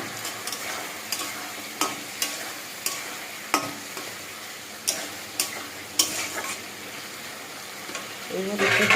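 Chopped tomato and chili powder frying in a pan while being cooked for a fish dish, with soft sizzling under repeated sharp scrapes and taps of a spatula stirring at a steady, uneven pace, fairly quiet.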